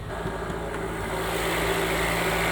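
A cold 1.3-liter plug-in hybrid Alfa Romeo Tonale Ti engine idling slightly high, a steady close hum with a low droning rumble, unbroken and alone.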